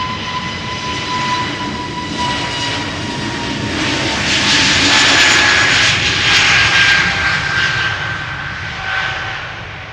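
An SAS Airbus A320neo bound for Oslo departs Amsterdam Schiphol close by, its engine roar swelling to a loud peak midway with thin whining tones on top, then easing slightly, with no talking.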